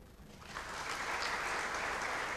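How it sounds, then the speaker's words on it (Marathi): An audience applauds at the end of a talk, clapping building from a quieter start into a sustained, even patter of many hands, somewhat distant in a hall. "बरं झालं तुम्ही शेवटी टाळ्या वाजवल्या"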